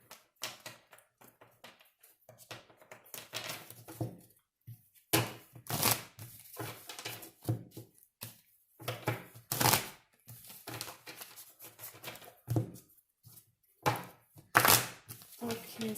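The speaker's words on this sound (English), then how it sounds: "let's get a few shuffles here for Sagi" Deck of tarot cards being shuffled in short bursts of riffling and tapping, close and fairly faint, with pauses between shuffles.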